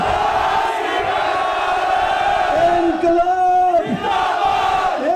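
A rally crowd of farmers supporters in Toronto roars a Sikh slogan in unison, a loud sustained group shout with rising and falling pitch that fills the whole stretch.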